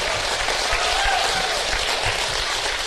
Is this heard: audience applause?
yes